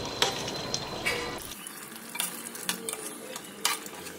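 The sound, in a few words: stirring chicken masala curry in a pan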